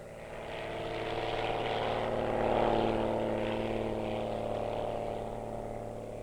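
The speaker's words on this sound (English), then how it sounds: "the airplane rises into the air" A propeller-driven fixed-wing airplane drones steadily overhead, its engine and prop noise swelling to a peak midway and then slowly easing off, with no voices.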